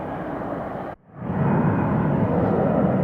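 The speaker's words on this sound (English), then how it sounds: "There's another Southwest Airlines Boeing 737 lumbering down the runway" A Southwest Airlines Boeing 737 rolls down the runway at an Atlanta airport, its loud, steady jet roar briefly cut by a sudden drop before swelling back to a full, continuous rumble.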